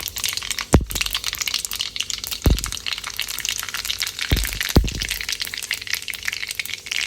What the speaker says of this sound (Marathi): आता इथे मी कढईमध्ये तेल गरम केलं आणि त्यामध्ये टाकली आहे मोहरी त्यानंतर जिरे